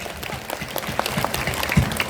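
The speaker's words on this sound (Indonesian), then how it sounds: "Tepuk tangan sekali lagi buat dua orang ini" An audience at a large Islamic religious gathering applauds with dense, continuous clapping for about two seconds. The clapping is steady and moderately loud, with a faint voice underneath.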